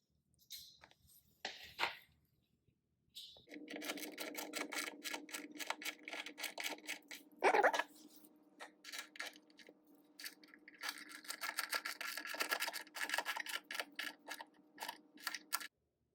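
Bolts tightened on GoRhino RB20 Slim Line running boards on a Ford Bronco, with rapid ratcheting clicks in bursts after a brief pause, close and fairly loud.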